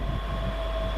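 A Class 385 electric train on the Lanark service hums steadily with a constant tonal whine over low rumbling, loud and close, without voices.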